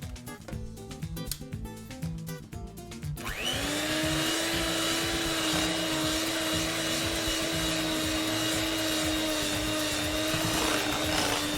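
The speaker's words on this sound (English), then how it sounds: "I have an electric mixer. So talk amongst yourself while I mix this together." An electric hand mixer beats sticky toffee pudding batter, starting with clattering and stop-start whirring, then settling into a steady high whine that holds loud and close for several seconds.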